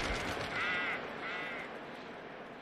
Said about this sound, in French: Le corbeau.